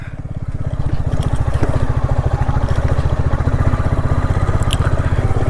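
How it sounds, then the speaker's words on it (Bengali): A motorcycle engine chugs in a steady, rapid pulse as the bike rides off-road over a landslide-damaged mountain road toward Lolegaon in rainy Kalimpong, loud and close with some rattling clatter. "অফরোডিংয়ের উপর থেকে বাইক চালিয়ে আমরা যাচ্ছি লোলেগাঁওয়ের দিকে"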